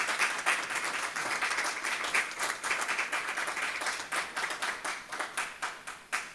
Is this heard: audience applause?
yes